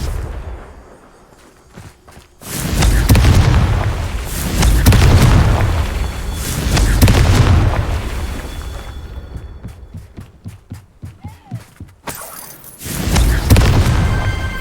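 Spell-cast explosions boom in Hogwarts Legacy: several loud, deep blasts roll and swell one after another, broken by a quick run of sharp rhythmic pops, then another heavy boom at the end.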